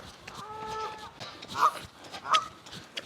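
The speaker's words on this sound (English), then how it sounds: "these geese are feisty and all, but fancy my chances" Geese honk nearby, a few loud nasal calls in quick succession over quiet outdoor background.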